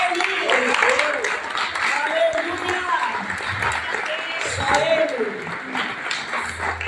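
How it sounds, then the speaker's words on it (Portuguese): Church congregation at a thanksgiving service breaking into scattered applause, clapping mixed with voices and talk, moderately loud and somewhat uneven throughout. "Aplauda ele!"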